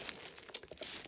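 Plastic food storage bags in a camping kitchen chuck box crinkle and rustle close up, a quiet run of crackles with one sharper crinkle midway.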